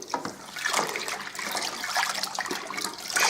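Brewing sugar is stirred into a John Bull Country cider kit, the liquid swishing and trickling steadily at close range, soft and continuous with a slight surge at the end.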